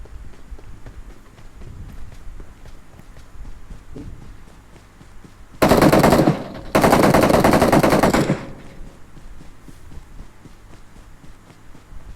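Shotgun fire in an online first-person shooter game, two loud, sustained bursts in quick succession mid-clip, standing out over quieter in-game footsteps and background ambience.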